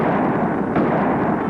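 A gunshot fired at ranchers in a 1950s TV western gives one dense, booming burst that fills the short moment, heavy and echoing with no talk.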